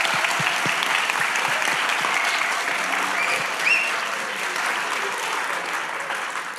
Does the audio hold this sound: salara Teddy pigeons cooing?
no